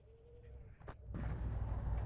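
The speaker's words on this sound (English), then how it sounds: "artillery, you know, it's doing the job slowly" Artillery fire in the Cold War strategy game WARNO: a sharp distant report followed by a swelling, sustained rumbling barrage of impacts that grows louder and stays heavy to the end.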